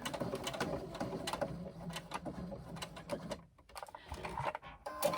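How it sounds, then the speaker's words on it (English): A sewing machine runs a row of stitching across a bag strap, with its fast mechanical whirr close and steady, then a brief pause before it starts again. "Run a row of stitching across to hold that in place."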